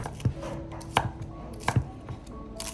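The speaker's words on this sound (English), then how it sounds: "chop the scallions and parsley into moderately small pieces" Knife chopping washed scallions and parsley into small pieces on a board, a handful of sharp, irregular chops close by with quiet kitchen background between strikes.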